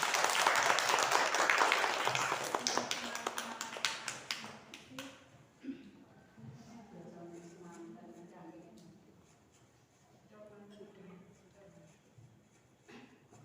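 An audience applauds a speaker at a teachers' dissemination event in Malang, with loud, dense clapping for about five seconds that fades into scattered claps and then speech.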